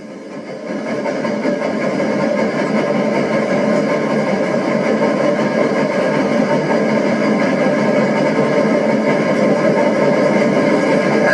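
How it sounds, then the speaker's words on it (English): Union Pacific 3985 steam locomotive accelerating after clearing crossovers, a steady, loud, dense roar of exhaust and machinery holding without a break from start to finish. "As the engine picks up speed, Mr. Lee changes the setting on the Johnson"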